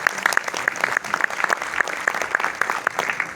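Audience applause at a stage event in India, a sustained round of clapping with several sharp, prominent individual claps standing out near the front over the general crowd.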